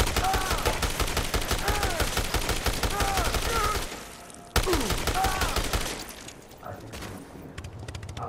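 Rapid continuous gunfire blasts in the Dead Rising Deluxe Remaster video game, a dense stream of loud shots that briefly stops, resumes, then thins out amid game sounds and a voice.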